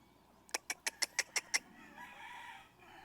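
White Kelso gamefowl at a breeding farm, a quick burst of about seven sharp clucks in a row followed by softer low murmuring calls, fairly faint.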